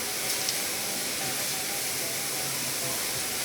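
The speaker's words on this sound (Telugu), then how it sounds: "నేను వేడిదే వేసేస్తున్నాను తాలింపు పచ్చళ్ళు" Hot oil tempering poured into a homemade pickle gives a steady, close hiss that holds evenly throughout.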